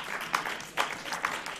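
Applause from councillors in a regional council chamber, a modest round of clapping heard at moderate distance, steady with a few sharper claps standing out, no speech over it.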